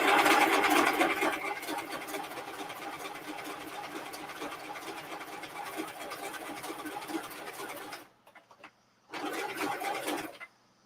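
A sewing machine stitches vinyl in a quiet run of soft, rapid mechanical whirring, stopping briefly near the end and then starting up again for a short burst.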